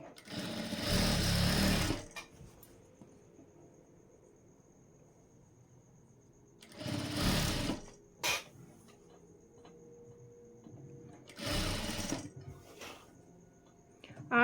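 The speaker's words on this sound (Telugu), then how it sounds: "ఇప్పుడు ఈ ఆర్మ్ హోల్ మ్యాచ్ చేసుకుంటూ ఒక కుట్ట అయితే వేసేసుకోండి" A sewing machine stitching the armhole seam of a blouse runs in three separate bursts of rapid whirring, each a second or two long, with quiet pauses and faint handling between them.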